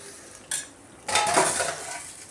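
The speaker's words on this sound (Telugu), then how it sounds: "ఇంకా మనం దీన్ని మంచిగా కలుపుకుందాం." Spoon scraping and stirring tomato chutney with masala in a pan, a short clink followed by a longer scraping, mixing sound, close and moderately loud.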